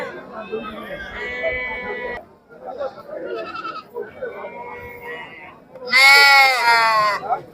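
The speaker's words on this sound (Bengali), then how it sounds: "একদম দেশি ভেড়া" Native sheep bleat at the Talgachhi sheep and goat market in Shahjadpur, Sirajganj, with several wavering calls in a row, the last loud and close, amid crowd noise.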